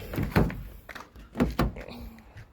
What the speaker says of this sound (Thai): ดับเครื่องปิดประตูนะล็อกรถ